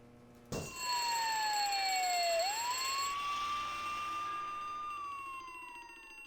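A fire alarm siren in the video game Harvester starts abruptly and wails loudly, its pitch sliding down and then back up in one long sustained tone with ringing overtones and no talk.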